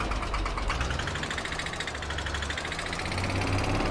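A tractor engine idles steadily in the Farming Simulator 22 video game, a continuous close mid-pitched mechanical drone with a faint rhythmic knock and no talking.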